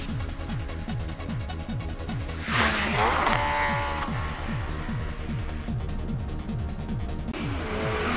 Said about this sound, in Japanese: 次のコーナー全開ドリフ。